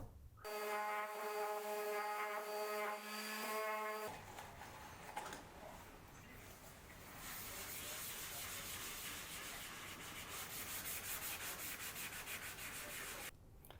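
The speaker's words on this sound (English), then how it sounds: "do some sanding, finish it off" Sanding wood for a pegboard, a sustained close rasping rub that runs for several seconds after a tonal machine hum at the start, with a steady gritty texture throughout.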